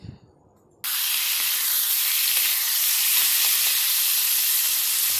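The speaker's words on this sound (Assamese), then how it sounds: "এতিয়া এইখিনি ভালকৈ ফ্ৰাই কৰিম। ভাজি আছোঁ মই।" Steady, loud sizzling of duck meat frying in hot oil, a continuous crackling hiss that starts abruptly after a brief quiet moment.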